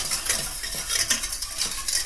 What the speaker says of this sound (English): And I'm just going to give that one a stir.